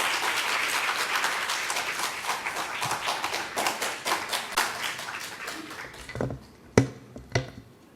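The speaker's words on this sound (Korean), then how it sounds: "우리 나올 때 박수로 격려 주시면 감사하겠습니다" A church congregation at a Friday prayer service applauding, a dense burst of many hands clapping that thins into scattered claps and fades out near the end, with no voices over it.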